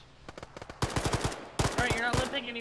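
Rapid bursts of gunfire from the military video game Arma, loud and close, with quick repeated shots in clusters and a heavier volley partway through.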